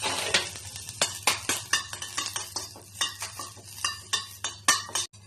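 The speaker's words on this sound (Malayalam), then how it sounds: "എന്നിട്ട് കറിവേപ്പില ഒന്ന് മൂപ്പിച്ചെടുക്കാം." Curry leaves frying in oil in a pan, with a steady low hiss under repeated sharp crackles and spatters at close range, alongside scraping and clinking of a utensil stirring against the pan.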